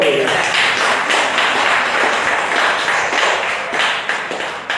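An audience at a Tamil devotional talk on Pamban Swamigal claps together, a dense burst of applause that stays loud throughout and thins slightly near the end.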